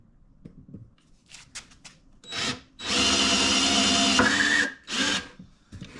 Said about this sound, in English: let me get the drill and we'll drill some holes